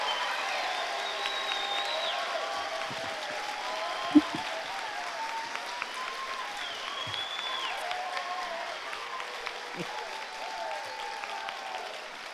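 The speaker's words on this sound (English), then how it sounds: "Let's give a final round of applause for all of the Angell Elementary class of 2016" An audience at an elementary school class of 2016 fifth-grade promotion ceremony claps steadily throughout, a dense, even patter of many hands with a few sharper claps standing out.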